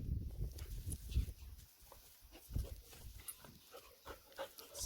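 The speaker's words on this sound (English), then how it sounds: "Still a dog circus going on under my feet." Small dogs scuffling and padding around underfoot during horse groundwork, with irregular soft thumps, snuffles and brief yips close by, uneven and bursty over about five seconds.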